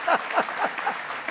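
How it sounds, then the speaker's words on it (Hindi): A studio audience at a televised courtroom-style interview show claps in a short, dense burst of applause, fairly close and lively. "जोरदार तालियां जी।"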